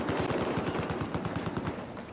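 An MP7 submachine gun fires in the video game Battlefield 4, a rapid sustained burst of evenly spaced shots, close and loud, running nearly two seconds before fading.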